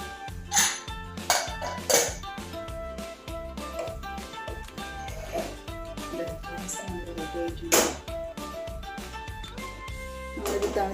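A pressure cooker of rice being opened and handled: metal lid and pot clatter in a few sharp clanks and knocks over a steady background hum, close by with no talking.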